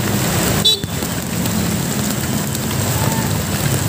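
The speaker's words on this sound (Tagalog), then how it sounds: "Traffic, ang lakas ng ulan." Heavy rain pours down around a Honda Click 125 motorcycle in stalled city traffic, a loud, dense, steady hiss of rain with a brief knock early on.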